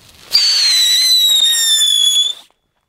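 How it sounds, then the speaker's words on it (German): A whistling firework (Luftheuler) sets off with a sudden shrill whistle that holds for about two seconds, slowly dropping in pitch, then cuts out into silence; loud and close, no talk. "Und einen Luftheuler mache ich nochmal, weil die, glaube ich, noch ziemlich laut sind."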